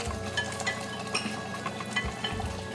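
Butter being whisked into an apple cake batter in a bowl, a steady close scraping and tapping of the whisk with small clinks, continuous and fairly even over a low background hum, with no talking.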